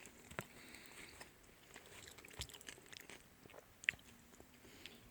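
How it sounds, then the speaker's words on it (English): Steak being chewed and bitten at a campfire meal, close and quiet, with soft irregular crunching and mouth noises and a couple of sharper clicks. "you probably don't want to hear all my gross chewing noises"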